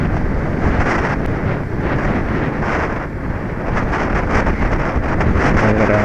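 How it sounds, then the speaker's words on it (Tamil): Strong wind buffets and roars across the microphone continuously while riding a Bajaj Pulsar 150 motorcycle, a heavy rushing noise, with no voices. "ரொம்ப ஸ்ட்ராங்காக அடிக்கும் காற்று"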